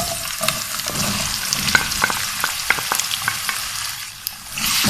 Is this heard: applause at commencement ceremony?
no